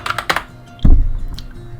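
A few quick keystrokes on a computer keyboard while renaming a layer in Adobe Illustrator, a short burst of clicks followed by a louder desk thump, fairly close.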